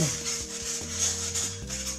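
A freshly drilled piece is smoothed by hand-rubbing: a continuous close scraping rasp in repeated strokes over a low steady hum, with no talk.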